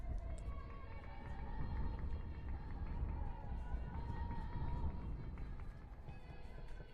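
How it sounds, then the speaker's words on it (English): Wind buffeting an outdoor crowd microphone at a college softball game, a steady low rumbling roar throughout with faint distant crowd noise and speech mixed in. "You might be able to hear the wind whipping around and the crowd mic outside."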